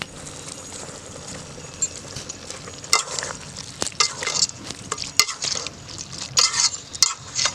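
Ginger garlic paste sizzles steadily in a hot pan while a spoon scrapes and clatters against the metal in irregular bursts, close and fairly loud, with no talking.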